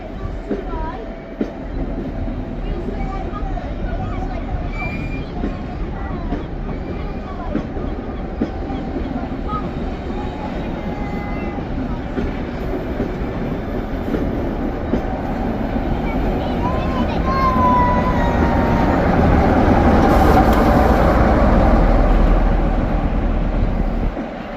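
Train passing through Carlisle station, a steady close rumble with rolling wheel noise and rail clatter that grows louder toward the end, with some voices underneath.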